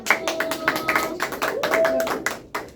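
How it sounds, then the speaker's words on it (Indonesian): Scattered clapping from a small classroom audience at an Islamic university presentation, a few hands striking irregularly over a murmur of room noise and faint voices. "Tepuk tangan untuk kelompok 1"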